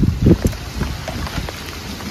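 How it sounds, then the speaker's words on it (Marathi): Heavy rain falls in a mangrove, making a constant wash of drops with wind buffeting the microphone and a few low thumps near the start. "बघा जाम पाऊस पडतोय"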